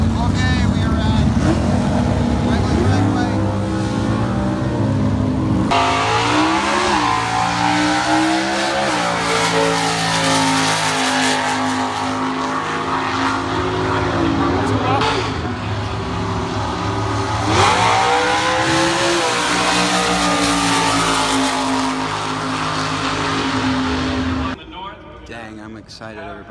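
Top Fuel funny cars at a drag strip roar with a loud, sustained, crackling engine blare that rises and shifts in pitch as they accelerate. Heavy talk runs beneath, and the noise cuts off abruptly near the end.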